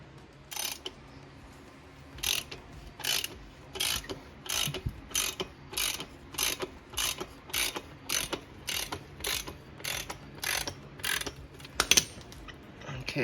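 A ratchet wrench clicks in a steady repeating rhythm, short bursts of pawl ratcheting spaced about half a second apart, close and fairly quiet, as it loosens a chain adjuster on a Honda XR 150 L motorcycle.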